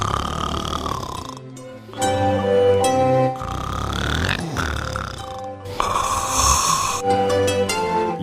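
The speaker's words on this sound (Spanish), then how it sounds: "un lebrel seco y enjuto roncaba en el portalón" A radio-drama sound effect of a lean, wiry hound snoring. Loud, rasping, drawn-out snores repeat in a slow rhythm, several in a row, up close and with no talk over them.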